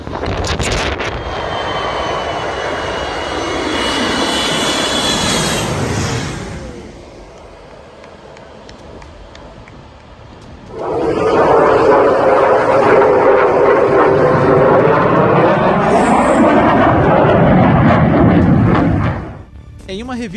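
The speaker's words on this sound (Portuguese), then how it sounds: "A321 desce em direção à pista do aeroporto de Skiathos." Airbus A321 jet coming in to land low over a beach at Skiathos airport, a loud roaring engine rush that fades, then swells again into a second long, steady roar.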